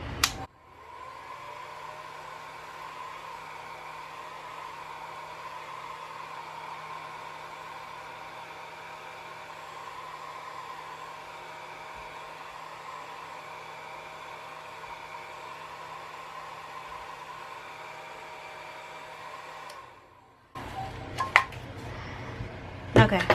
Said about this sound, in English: it's gonna be the blow dryer